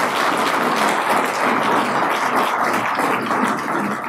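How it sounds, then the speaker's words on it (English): Steady, dense applause from a live audience after a talk on behavioural change, filling the space evenly at a loud level with no voices over it. "Round of applause, I think, for David."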